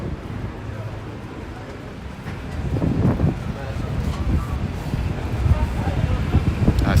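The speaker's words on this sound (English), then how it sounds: "It's a little windy here." Wind gusts along a street in Amman, Jordan, making a low rumbling buffet against the microphone that grows stronger after the first couple of seconds and keeps surging.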